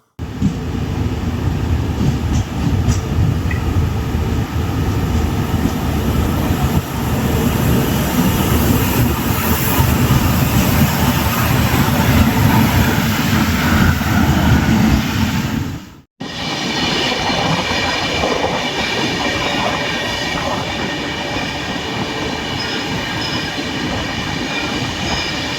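A passenger express train rumbles steadily along the rails, a loud continuous roar with faint rhythmic clatter, briefly cut off midway before resuming.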